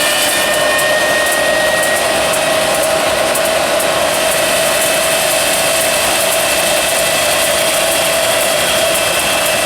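A homemade M701 model jet engine runs with a loud, continuous roar and high whine, steady and close throughout, with no voices.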